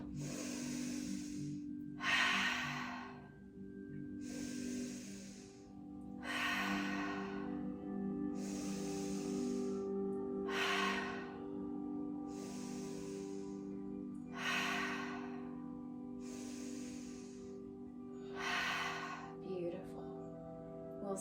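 Slow, deep yoga breaths drawn in and released in a steady rhythm, roughly ten breaths over a soft background hum, close and fairly quiet with no talking.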